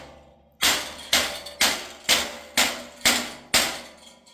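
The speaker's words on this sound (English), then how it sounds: "You're just going to take a rubber mallet here and go over it." A rubber mallet strikes the edge of a sheet metal panel being hand-formed for a Pontiac Montana, giving seven evenly spaced, loud, ringing blows about half a second apart, each decaying before the next, with no speech.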